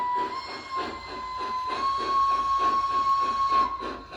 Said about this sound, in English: the whistle has a fairly long intro into it